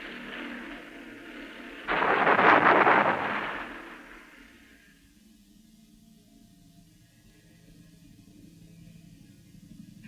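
A U.S. Marine Bell AH-1 Sea Cobra attack helicopter fires its weapons, producing one loud, broadband burst that swells and then fades over about two seconds above a steady low rumble.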